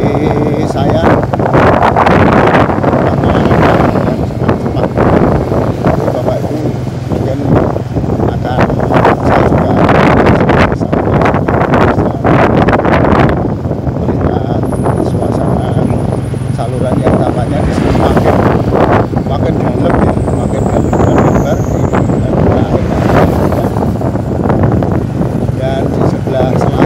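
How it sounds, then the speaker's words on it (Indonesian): Strong wind buffets the microphone continuously along a riverside road, a loud broadband roar with gusting surges, while someone talks over it throughout. "Sangat kencang anginnya."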